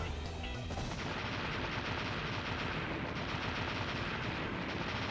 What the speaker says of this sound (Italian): Queste esplosioni sono gloriose